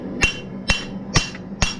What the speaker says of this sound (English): So I'm going to take and hammer it flat.